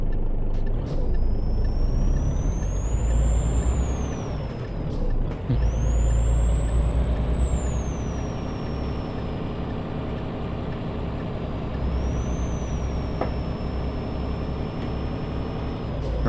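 Heavy truck in Euro Truck Simulator 2 rumbling steadily with a deep engine drone, broken by sharp air-brake hisses and squeals near 1, 5 and 12 seconds; no talking.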